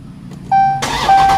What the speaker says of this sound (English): So if we turn the car on now,